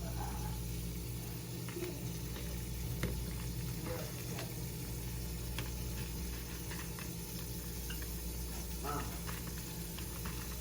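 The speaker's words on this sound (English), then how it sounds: "While the meat is browning" Meat browning in a pan on the stove, with guajillo chiles being toasted alongside, gives a steady, continuous sizzle and crackle that holds at an even level throughout, close and moderately loud.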